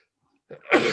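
A single short, sharp sneeze bursts out close to the microphone after a moment of silence.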